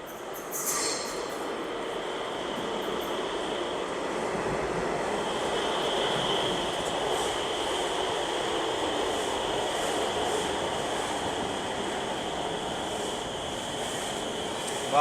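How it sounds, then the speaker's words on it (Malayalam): Agra metro train pulling into an underground station: a steady, loud rumble of rolling carriages with a sustained high wheel squeal running through most of the arrival, and no voices. "നമ്മൾ ട്രെയിൻ വന്നെന്നാണ് തോന്നുന്നത്."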